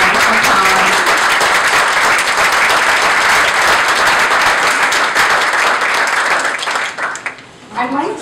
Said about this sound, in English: Let's give one last round of applause for those wonderful comments.